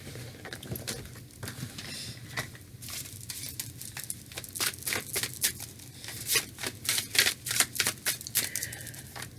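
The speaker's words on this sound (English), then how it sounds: "I'm going to do it one more time as I'm shuffling the cards." Tarot cards shuffled by hand in a quiet room, a steady run of soft papery riffles and flicks that grows denser and louder toward the end, with no talking.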